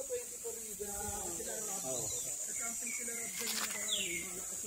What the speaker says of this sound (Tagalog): Mga ibon lang maririnig nyo rito.